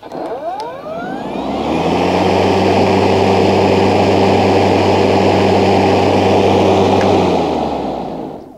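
An electric rotary lawn mower motor spins up from quiet to a loud, steady whine with a hum, holds for several seconds, then winds down near the end.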